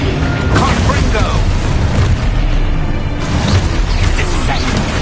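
Fiery Confringo spell blasts boom in Hogwarts Legacy, a dense, loud barrage of bursts and crashes layered continuously over several seconds amid other combat noise, with a voice talking over the action.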